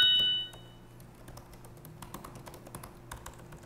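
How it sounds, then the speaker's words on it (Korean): Someone types quickly on a computer keyboard during a typing speed test. A short tone opens the clip, then a steady stream of quiet, irregular key clicks and taps follows with no talking. "저 키보드 소리 진짜 좋아하거든요"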